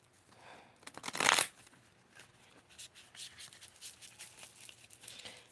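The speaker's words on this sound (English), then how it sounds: "That's why I wanted to wait until I was on camera for shuffling." A brand new deck of playing cards is shuffled up close, with a loud riffle burst near the start followed by quieter, irregular card handling and patter.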